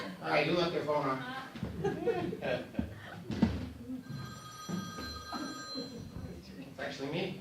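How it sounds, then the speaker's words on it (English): A mobile phone's electronic ringtone sounds during a stand-up comedy show in a playhouse, its repeating tones rising over a performer's talk and scattered audience laughter. "who left their phone on?"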